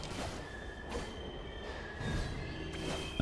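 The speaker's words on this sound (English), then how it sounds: "The metro begins to move, and Icey is hurled towards her destiny, awaiting at the clock tower" A metro train in the ICEY video game starts to move, giving a steady low rumble with thin whining tones above it that builds slightly toward the end, with no voices.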